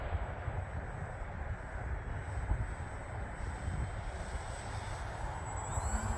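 ParkZone F4F Wildcat RC plane flying in strong wind, giving a steady motor whine under continuous loud wind buffeting across the whole stretch, with no talking.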